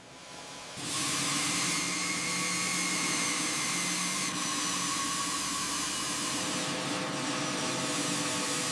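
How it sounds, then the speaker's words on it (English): After a brief quiet start, a power sander hisses steadily as it smooths a large skeleton figure (Titan X24) during heavy restoration, loud and continuous with a slight change in tone partway through. "Keep the sander flat."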